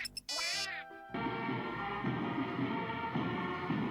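A cat meows loudly and close, a single drawn-out rising cry at the start, followed by a steady noisy background with faint sounds in it.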